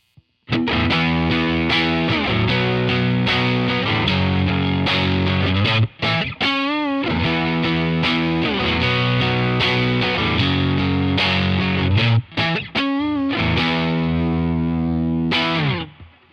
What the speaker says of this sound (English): Now let's kick on some overdrive.